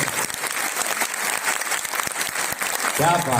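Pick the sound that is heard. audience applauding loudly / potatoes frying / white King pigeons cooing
audience applauding loudly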